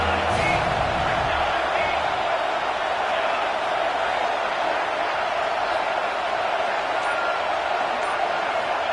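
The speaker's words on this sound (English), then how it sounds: "This crowd bringing the energy and noise early." In a college football video game, Ohio State hosts Northwestern as the stadium crowd keeps up a dense, unbroken roar for the whole stretch. A commentator's voice carries on over the noise.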